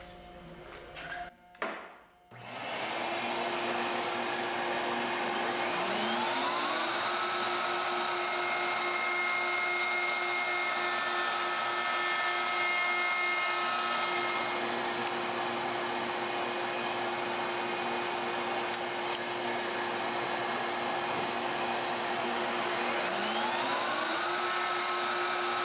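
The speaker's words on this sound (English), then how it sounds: "let's do the binding route, binding channel. We're gonna use the 60 thousandths cutter" A wood router fitted with a 60 thousandths cutter routes a binding channel along a guitar neck made from a 2x4, a loud steady high whine running continuously after a brief start-up knock, with slight pitch dips as it moves.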